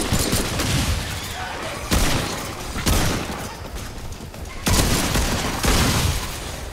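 Loud, dense gunfire from the video game Remnant 2: rapid overlapping shots and heavy bursts fill the whole stretch, with sharper booming blasts at regular intervals on top of a constant roar of combat.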